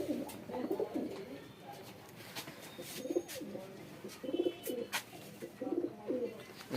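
Pigeons coo close by at a pigeon sale, repeating soft low rolling calls in a steady rhythm, with faint voices and clicks in the background.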